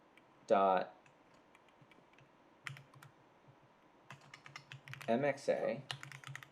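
Code is typed on a computer keyboard in quick, irregular bursts of light clicks, close and fairly quiet, with someone talking intermittently over them.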